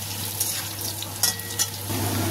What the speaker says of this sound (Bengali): আলু ফ্রাই করে নিচ্ছি আমি